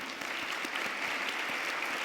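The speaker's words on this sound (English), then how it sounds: "Let's hear a round of applause for them as they come up" Sustained audience applause fills a lecture hall at a skeptics' event as volunteers walk up on stage, a steady dense wash of clapping with no clear voices over it.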